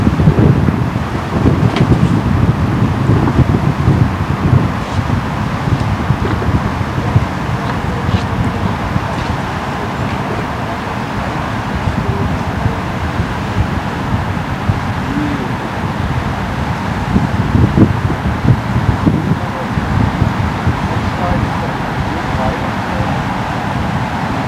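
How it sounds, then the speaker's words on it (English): Strong wind buffets the microphone on a beach coast near Lagos, Portugal, a loud continuous roar that fills the whole stretch, with a little speech faintly beneath it. "Bit windy, unfortunately."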